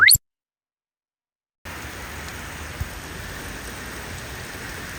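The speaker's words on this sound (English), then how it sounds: "So we got caught in the rain." Rain falls steadily on a scooter ride, a soft even hiss that begins after a short silence and continues without a break.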